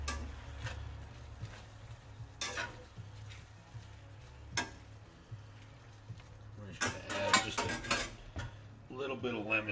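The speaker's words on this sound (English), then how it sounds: "We're just going to put our shrimp back in. Now that the sauce is all done, just going to stir that in really good." A utensil stirs shrimp into a Tuscan butter sauce in a pan, with sharp metallic clinks and scrapes against the pan and a soft sizzle, close by and in uneven bursts, while someone talks.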